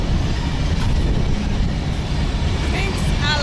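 Iron ore freight train in Mauritania rumbling near the Zouérat mine, a loud continuous low roar of wheels and rattling wagons with brief metallic squeals near the end.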